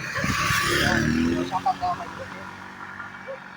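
A motorcycle carries riders along a wide tunnel bypass road in Davao City, its engine and wind rush loud and close at first, then settling into a steadier hum.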